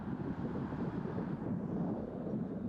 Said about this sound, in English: So this is a little windy.